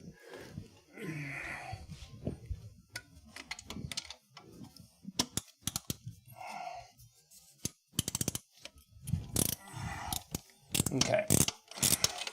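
A socket ratchet wrench works on leaking fuel injectors on an RX-7 engine, giving up-close bursts of quick mechanical clicks in irregular runs, with a brief spoken word in between.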